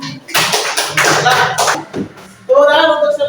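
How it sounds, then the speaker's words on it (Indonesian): Classroom group applauding after a discussion session, a burst of clapping lasting over a second, followed by a person beginning to speak. "Tepuk tangan untuk semua."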